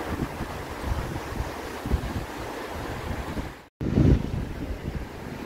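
Waves wash onto a beach at low tide, a broad rushing surf roar mixed with wind buffeting the microphone, steady throughout apart from a brief dropout near the end.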